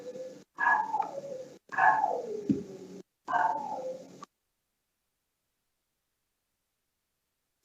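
A dog gives three short, falling barks in quick succession, fairly close and alone, then everything goes silent.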